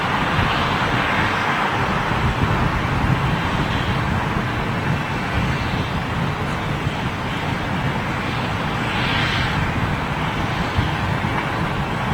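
A smoky airliner leased to British Airways from Air Belgium climbs out low from London Heathrow, giving a continuous, even broadband roar mixed with wind buffeting on the microphone, with no voices.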